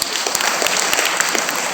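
An audience of women claps at a school comedy and mimicry show, a dense, lively burst of many hands with sharp individual smacks standing out, fairly loud throughout.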